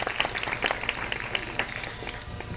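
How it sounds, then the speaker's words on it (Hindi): Audience applause at a family thanksgiving prayer gathering, a steady wash of many hands clapping at moderate loudness throughout, with faint voices mixed in. "हम इनके लिए भी ज़ोरदार तालियां बताएंगे।"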